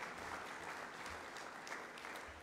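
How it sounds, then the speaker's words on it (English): A church congregation at a worship service claps for the event MC, a steady, moderately faint round of applause from a room full of people that holds evenly for a couple of seconds. "We can have another clap for our MC last night."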